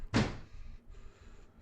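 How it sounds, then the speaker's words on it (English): A single heavy bang on a locked door lands near the start, followed by a low dull rumble and quiet background noise. "Who's banging on the door?"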